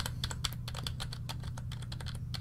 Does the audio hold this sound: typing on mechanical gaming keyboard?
yes